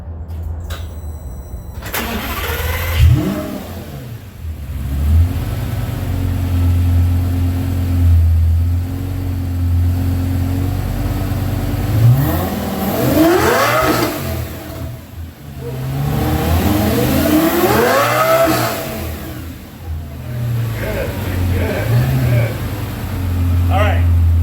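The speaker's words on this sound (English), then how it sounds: "I want you guys to get a chance to hear how this Lamborghini sounds." A Lamborghini sports car engine fires up and revs repeatedly in loud, rising bursts, settling between pulls, with some voices in the background.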